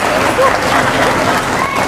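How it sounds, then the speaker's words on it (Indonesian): A loud, close crowd at a Hijabers Community event in Lagoon Mall, Bekasi, claps densely and continuously for the community throughout the short moment. "Tepuk tangan buat Hijabers Community."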